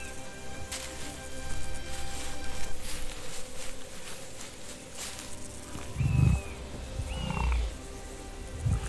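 Deep lion roars rumble through a noisy outdoor scene, rising in a burst of low growling near the end, with bird calls and ambient hum behind.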